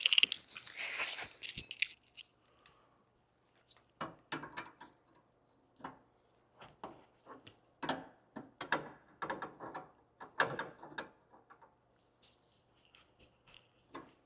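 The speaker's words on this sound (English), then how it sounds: "Now we're just gonna hit this jam nut" Ratchet working a jam nut tight on the outer tie rod end of a 2017-2023 Honda Ridgeline, giving a series of close, irregular clicks and metallic ticks with short pauses between bursts.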